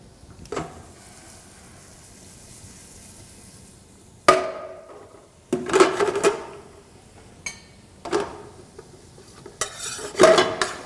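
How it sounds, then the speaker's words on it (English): Shallots and garlic cooking in a pan over medium-low heat, with a faint steady sizzle broken by several loud clattering bursts of a utensil stirring and scraping against the pan, and no talking. "I'm going to cook it until the garlic just starts to get a little bit of color."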